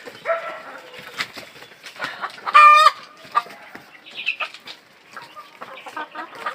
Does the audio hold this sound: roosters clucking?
yes